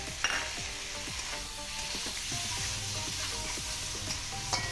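Chopped tomato and potatoes fry and sizzle in a pan with onion, salt and turmeric, a constant close crackle broken by regular scraping stirs and light utensil knocks.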